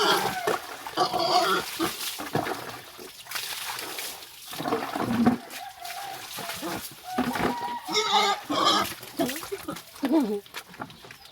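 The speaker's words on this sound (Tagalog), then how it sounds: "Ang likot ng aking baboy." Pig grunts and high squeals come in irregular bursts at close range as the pig is bathed, mixed with splashing water and occasional voices talking nearby.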